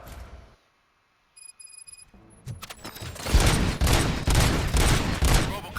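In the video game Robocop: Rogue City on PS5, after a short silence and a few electronic beeps, a burst of rapid gunfire erupts, loud and continuous, with sharp cracks and rumbling echoes.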